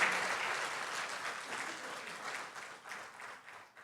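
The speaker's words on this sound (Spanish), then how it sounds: "¿Cuántos dan de una ofrenda de palmas al Señor por su palabra?" Church congregation giving a round of applause during a Spanish-language sermon on spiritual gifts, dense steady clapping from many hands that slowly thins and fades toward the end.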